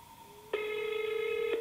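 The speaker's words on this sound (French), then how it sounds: "Mon téléphone n'a jamais sonné comme ça." An unusual ringing tone on a phone line while calling a Japanese number: one sustained, loud, buzzy multi-harmonic ring that starts abruptly and lasts about a second over a faint steady tone.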